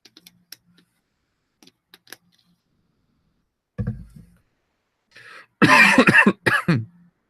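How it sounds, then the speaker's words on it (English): A few scattered soft clicks, then a throaty cough followed by a burst of harsh coughing, close and fairly loud. "So when I get over my cough, it still hasn't gone completely yet."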